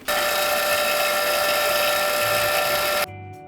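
Brass wire wheel on a power tool grinding carbon off an engine valve during an engine rebuild, a loud steady high whirring buzz held for about three seconds before cutting off abruptly.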